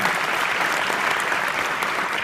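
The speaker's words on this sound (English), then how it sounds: "that's right, you can clap for that" Convention crowd applause at a Hispanic chamber of commerce event fills the space with a dense, continuous roar of clapping, loud and close, steady from start to finish without speech.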